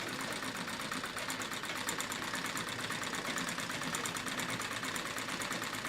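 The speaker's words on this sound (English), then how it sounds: "I get this rattling noise as the machine bobbles around" Treadle sewing machine quilting on denim, an unbalanced, unlevel machine rattling with a fast, even mechanical clatter that runs continuously at close range.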